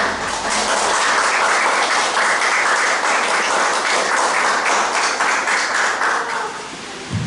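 Steady applause from a church congregation welcoming a pastor, sustained and even for several seconds before it starts to taper off at the end.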